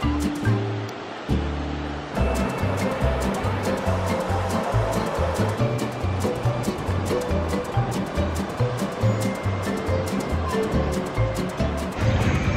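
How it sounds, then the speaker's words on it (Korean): Ocean waves roll and break on a beach in Thailand in a continuous loud wash of surf, steady throughout with rhythmic low swells and no talk. "어 파도가 너무 좋아서 그치?"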